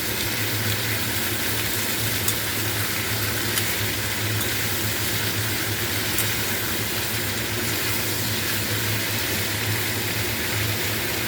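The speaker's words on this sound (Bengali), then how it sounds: "সেই সব সবজি আমি সরু সরু করে কেটে নিয়েছিলাম, আর এটা আমি দিয়ে ফ্রাই করছি।" Thin strips of bitter gourd, eggplant, potato and capsicum fry in a pan, giving a steady, even hiss over a low hum that runs unbroken throughout with no voices.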